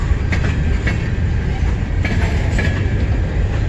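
A fast westbound freight train passing near Emmett, Michigan, a loud, steady rumble of wheels on rails with rhythmic clicking and faint metallic squeals from close by.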